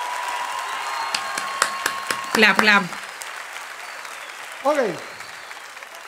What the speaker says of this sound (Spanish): quiero que le den un fuerte aplauso a esta terrible competencia.